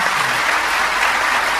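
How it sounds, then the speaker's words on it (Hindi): An audience at a religious storytelling event claps together in a dense, even round of applause that holds steady throughout, with no voice over it. "ताली बजा दिए थोड़ा माइक के लिए"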